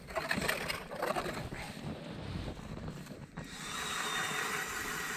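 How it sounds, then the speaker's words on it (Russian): A hand or motor ice auger bores a fishing hole through lake ice on a frozen winter lake in Karelia at minus 25, a grinding, rough drilling noise with wind buffeting the microphone, the tone shifting as the bit works deeper. "Сверлим свою первую лунку"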